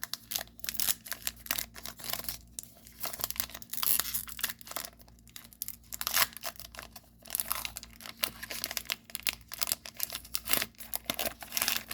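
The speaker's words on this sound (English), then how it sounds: "let's open up our next pack" A foil Stranger Things trading card pack being torn open, with close, loud, continuous crinkling and ripping of the wrapper in uneven bursts and no voices.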